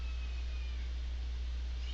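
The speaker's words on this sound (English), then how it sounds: "And that's my cat." Pet cat Bootsy meowing faintly in a room over a steady low electrical hum, the cry drawn out and thin, with no talking.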